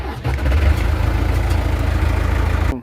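A green tractor engine cranks and catches, then settles into a steady low-throttle idle with a deep rumbling, throbbing tone, loud and close, cutting off abruptly at the end.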